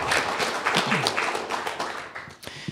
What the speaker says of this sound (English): So let's give a round of applause for all of our volunteer staff coordinators.